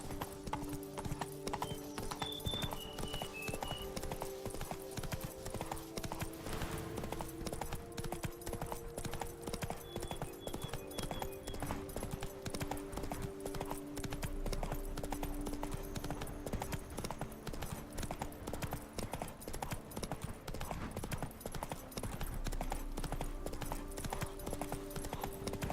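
Hooves of the horse Roach clip-clop steadily through the whole stretch as the animal gallops in The Witcher 3, with a brief whinny near the start over a constant bed of game music and ambience.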